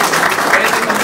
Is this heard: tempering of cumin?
no